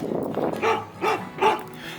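Dogs on a hiking trail give three short barks spaced about a beat apart, fairly close, over outdoor background noise.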